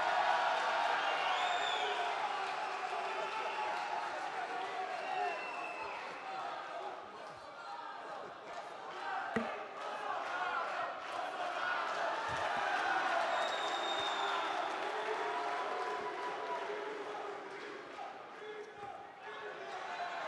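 A crowd at a panel debate on the role of the state makes steady noise with applause, cheering and a few sharp slaps, and voices mix through it. The roar stays fairly even over the whole span.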